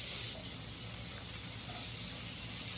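Cut potatoes sizzle in shallow mustard oil with salt and turmeric in a frying pan, a steady close hiss of frying running unbroken throughout.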